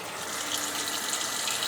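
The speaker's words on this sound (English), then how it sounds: "So what I'm gonna do is wash my hands again." Tap water running steadily into a kitchen sink while hands are washed, a continuous soft hiss and splash with no talk.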